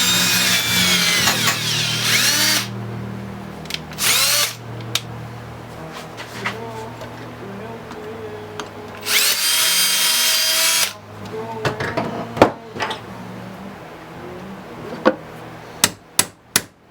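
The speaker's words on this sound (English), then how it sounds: "we'll just lock her down, drill the top off that rivet" Drilling the top off a seized rivet on the shaft of a STIHL HT-101 pole saw, with several loud sustained bursts of a power drill, knocks and clanks between them, and sharp taps near the end.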